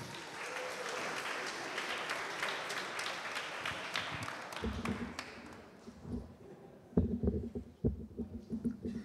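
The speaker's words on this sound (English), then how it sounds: "Let's give another round of applause to our dancers." An audience at an international poetry night applauds dancers, a dense wash of clapping for several seconds that thins out into scattered claps and a few soft thumps.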